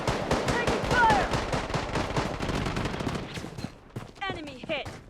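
Rapid bursts of gunfire in the online shooter Blood Strike fill the first few seconds in a dense, loud volley with game voice callouts over it, then thin out into a few scattered shots near the end.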